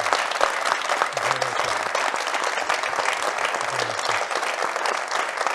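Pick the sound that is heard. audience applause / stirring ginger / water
audience applause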